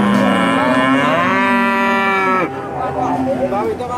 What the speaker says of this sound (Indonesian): Kepala sapi